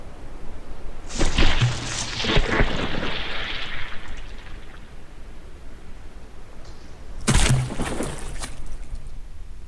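Shell explosions hit a battleship in From The Depths during a tournament brawl: two sharp, loud blasts about six seconds apart, each trailing off in a hissing, crackling rumble over low background noise.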